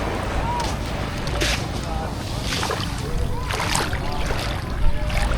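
Steady seaside wind buffets the microphone throughout, a continuous rushing roar with occasional louder gusts, faint surf or boat sounds beneath.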